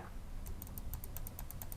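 A regular-model computer mouse, the noisy kind, clicked about a dozen times in a steady series of sharp, close ticks over a low background hum.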